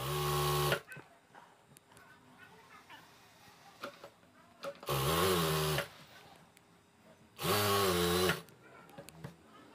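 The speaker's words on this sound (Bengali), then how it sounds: "এখন আমাদের এই কাপড়ের উপরে সেলাই দিতে হবে।" A sewing machine stitches the fabric of a pillow cover, running in two loud bursts of about a second each, separated by quieter handling noise and faint background sounds.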